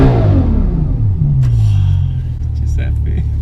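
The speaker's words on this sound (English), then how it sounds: "I'll tell you what is smooth, this V12 engine." A Bugatti Chiron's V12 engine rumbles and revs with a deep, smooth, falling tone, close by, while people talk over it.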